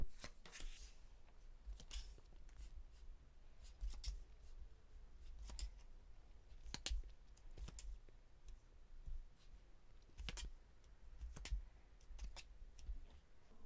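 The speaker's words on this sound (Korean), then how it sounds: "제가 카드 뽑아볼게요" Tarot cards are drawn and shuffled in a quiet room, soft papery flicks and sharp slaps recurring every second or so, close and faint, with no talking.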